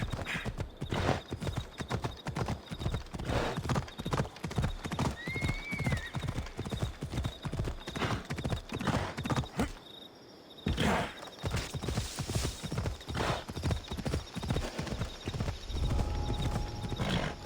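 Horse hooves clip-clopping at a steady galloping rhythm while riding in Assassin's Creed Odyssey, loud and continuous, with a brief pause midway and a horse whinny early on.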